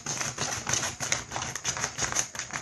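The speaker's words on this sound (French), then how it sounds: "vous allez prendre des ciseaux et vous allez couper le couvre-livre" Scissors snip through a book cover in a run of quick, close crisp cuts, each short and sharp, with no talking.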